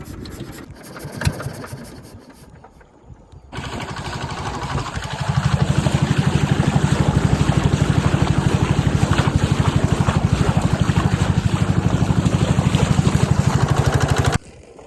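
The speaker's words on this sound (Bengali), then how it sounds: "আমরা কিন্তু জলে নেমে পড়েছি আর এখনই মেশিন স্টার্ট দিয়ে আমরা বেরিয়ে যাব" A fishing boat's engine starts up after some handling noise, then settles into a loud, steady, throbbing mid-pitched run on the water that continues until it cuts off near the end.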